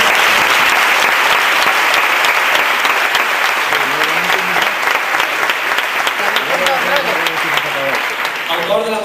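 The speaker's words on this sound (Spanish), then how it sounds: "queremos pedirle un aplauso para Esteban Torres" An audience applauds the composer of a religious procession march, with loud, sustained clapping from a crowd and voices rising underneath it, growing more mixed with talk near the end.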